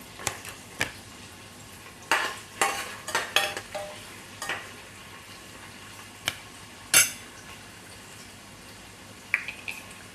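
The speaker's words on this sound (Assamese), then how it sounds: "গৰম হোৱাত ইয়াতে দিছোঁ অলপমান পিঁয়াজ সৰু সৰুকৈ কাটি লোৱা, তেজপাত দিলা, লগতে অলপমান আদা নহৰু, লগতে 3টা কেঁচা জলকীয়া।" Chopped onion, bay leaf, ginger, garlic and three green chillies fry in a hot pan, a soft steady sizzle broken by scattered scrapes and clinks of a spatula stirring against the metal.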